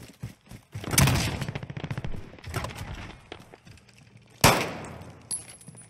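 Gunfire from the video game Call of Duty Warzone, with bursts of rapid shots and a sharp loud report near the end over quieter background movement.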